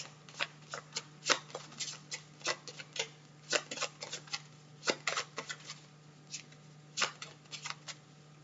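Playing cards shuffled and drawn for a tarot-style reading, a string of crisp riffling flicks and snaps in uneven bursts over a low steady hum, close and fairly quiet.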